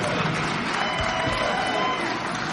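Comedy club audience applauding steadily, a dense, continuous wash of clapping and crowd noise with a few low thumps, no talk over it.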